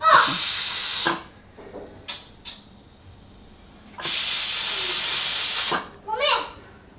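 Steam hisses from a pressure cooker being taken off the stove in a home kitchen, coming in loud broadband bursts: a long blast, a few short puffs, another long blast, then a sputtering burst, with brief voices in between.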